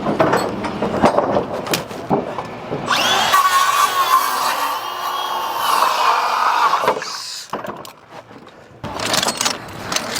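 A power drill whines in a sustained burst on a large scaffold build near Tower Bridge, steady and fairly close, with clanking metal and brief voices before and after.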